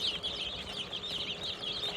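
A brood of young chicks cheeps without pause, a faint chorus of thin, high peeps overlapping in quick repeated bursts with no talking.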